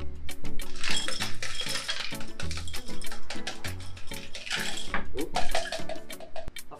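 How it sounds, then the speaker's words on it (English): Crushed ice being scooped and dropped into a glass at a tiki cocktail bar, a dense, loud stream of close glassy clinks and crunchy rattles continuing steadily throughout. "Get your crushed ice."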